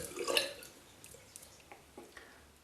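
A razor rinsed under running water at a sink, with a brief splashing burst followed by soft scattered drips and trickles, fairly quiet and without speech.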